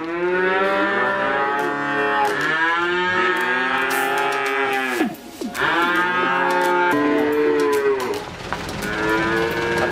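Many cattle moo loudly and continuously in a calf seller's pen holding nineteen young breeding cows, their long overlapping calls close by with almost no pause.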